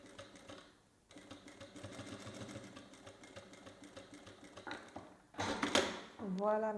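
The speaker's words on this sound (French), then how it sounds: "je vais faire une couture à 5 mm au bord du tissu" A sewing machine runs steadily as it stitches a 5 mm seam along the edge of fabric for a small coin purse, a close, even mechanical whir with a brief pause, then a voice speaks near the end.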